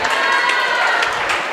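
Crowd noise at a varsity basketball game between NS and Cartwright, a loud continuous roar of shouting and cheering voices from the stands, steady throughout with no single dominant call.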